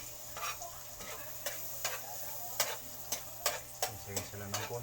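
Garlic sizzles in butter and a little oil for garlic shrimp, a steady frying hiss broken by repeated sharp clicks of a utensil stirring against the pan, close and moderately loud.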